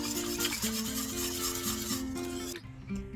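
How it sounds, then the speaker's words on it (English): Condensed milk being whisked into a no-cake trifle mixture, a brisk rubbing, scraping rhythm of the whisk against the bowl, close and steady, ending abruptly near the finish. "1 can of condensed milk, and give it a good whisk."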